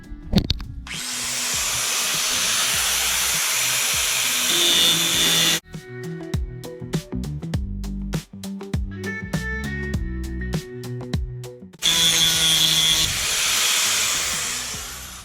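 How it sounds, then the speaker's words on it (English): A power grinder flattening rivet heads on a Silver Streak trailer whines loudly and continuously, stops abruptly, then gives way to clattering, uneven workshop noise before the high whine starts up again. "I need to get a grinder and flatten these so that I can drill them out"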